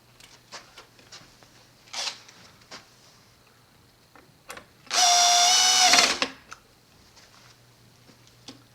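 A power driver runs one steady burst of about a second, driving screws into the valve body of a water softener's mechanical control valve, amid scattered light clicks and handling noises nearby.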